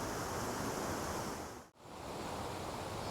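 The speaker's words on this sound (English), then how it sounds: "enjoying the sounds of the water" Rushing water at Eldorado Falls in Walker Ranch Park makes a dense, steady roar throughout, broken only by one brief dip near the middle.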